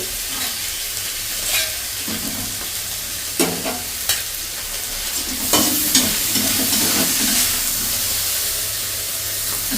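Mushrooms frying in a pan while being stirred, a loud continuous sizzle broken by several scraping stirring strokes and spatters, no talking.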